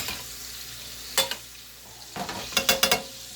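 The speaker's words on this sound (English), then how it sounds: "Pour your brown butter on." Brown butter sizzles softly in a pan, with a few clinks of a spoon against metal and a brief burst of stirring near the end.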